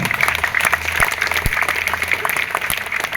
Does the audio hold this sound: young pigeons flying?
no